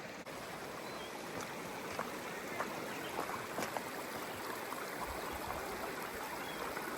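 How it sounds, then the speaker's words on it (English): Libby Creek rushes in a steady broadband wash of flowing water, constant and fairly close, with small splashes and ticks scattered through it and no voices. "I'll turn the camera around and show you some of the beautiful Libby Creek"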